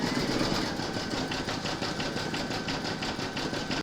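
An embroidery machine satin-stitches the white keys of a piano coaster, a close, fast, even mechanical rattle that holds steady before cutting off abruptly at the end.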